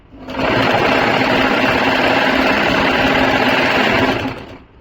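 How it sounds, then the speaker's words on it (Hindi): A sewing machine runs steadily for about four seconds, stitching piping onto a kurti in a home boutique, its dense whir loud and close with no talk over it. "अब यहां तक इसको पकड़ देंगे अच्छे से और फिर सिलाई लगा देंगे"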